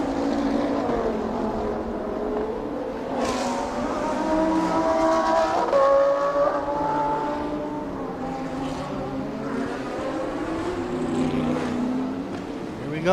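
The number 90 race car at a TSS 2018 touring car race passes with a loud revving engine whine, rising and shifting tones over a steady roar, while a commentator talks over it.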